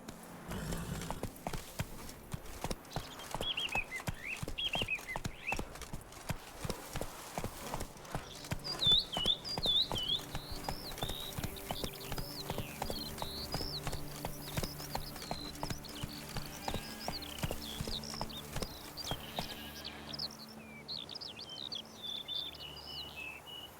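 Roach the horse galloping in The Witcher 3: Wild Hunt, Blood and Wine, with steady rapid clip-clop hoofbeats running throughout, close and loud, alongside chirping birds and game music in the background.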